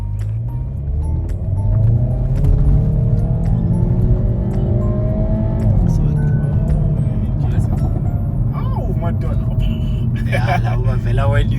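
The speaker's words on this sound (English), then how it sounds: "no one cares because this car makes nice sounds." A 2023 Hyundai i30N engine drones steadily and loudly from inside the cabin, a continuous low rumble with rising and falling revs, while a voice talks over it.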